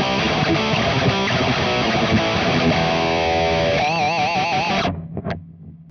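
Electric guitar played with an orange 1.6 mm pick through a Friedman Pink Taco amp with all effects off, sounding loud and distorted with strummed chords, then a wavering held note that cuts off sharply before a brief tail.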